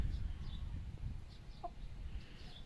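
Chickens cluck softly and sporadically in the distance in a village yard, a few faint calls over a low outdoor rumble.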